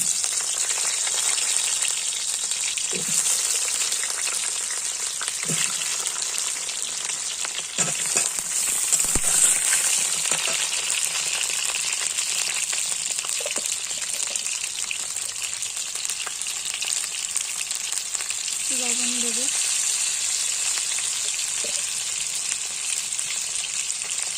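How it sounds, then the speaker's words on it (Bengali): Potatoes fry in hot oil in a home kitchen, making a steady, close sizzle that continues throughout. A few soft clinks of stirring are heard, with no talking. "তেলটা গরম করে নিয়েছি এবার দিয়ে দেবো আলুগুলো"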